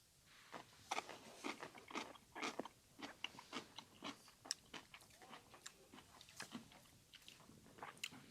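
Someone bites into a garlic pickle and chews it close to the mic, giving a quick rhythm of wet crunches and chewing sounds, fairly quiet, with no talking.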